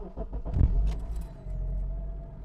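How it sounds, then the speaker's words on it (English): A car engine turns over and catches, a short cranking burst settling into a low steady idle rumble, close and fairly loud, with no talking. "So let me start the car."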